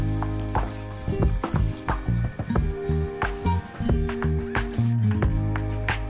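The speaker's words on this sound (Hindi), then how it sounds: "गरम करी सेथिरे काजू किशमिश की भाजिबा।" Cashews and raisins fry in a hot kadai for moong khichdi, a loud steady sizzle crackling close up with clattering stirs and scrapes of a spoon against the pan throughout.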